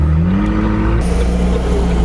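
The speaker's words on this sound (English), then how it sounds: "the car vibrates so much from the exhaust that the glass literally shakes" A McLaren 600LT Spider's exhaust rumbles loud and close, a deep throbbing idle that shifts pitch in one quick rev before holding a heavy, vibrating drone.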